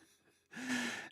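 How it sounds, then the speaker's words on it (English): A single sharp, heavy breath in after a brief quiet moment, close to the microphone and moderately loud, like panting after exertion. "listen to me panting after that"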